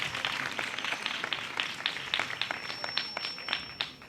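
A church congregation at St. Mary's Catholic Church in Sardarpura, Lahore Cantt claps together in a sustained round of applause, steady irregular hand claps filling the room.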